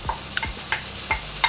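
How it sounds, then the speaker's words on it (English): Bacon lardons sizzle steadily in a hot pan. Several sharp taps and scrapes from stirring break in at regular moments over the frying. "we're going to fry off some lardons"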